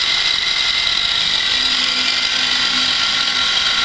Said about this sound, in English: Just going to start the spindle up.